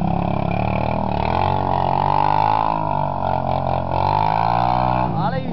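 Honda ATC200 three-wheeler engine revs steadily and loudly while being ridden, a continuous buzzing drone with slight pitch shifts and a quick rev at the end; nearby voices shout over it.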